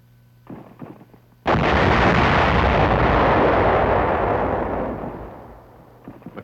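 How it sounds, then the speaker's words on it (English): A single massive blast of TNT demolition charges sealing caves erupts suddenly after a short quiet moment, followed by a long, heavy rumble that slowly dies away. "Resulting explosions close all but the biggest caves"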